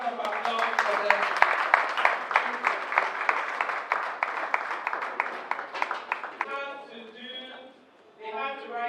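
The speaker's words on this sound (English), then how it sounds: "a round of applause for them." Audience applause at the inauguration of a school for exceptional students, a steady patter of clapping heard under continuous talking, fading near the end before voices carry on alone.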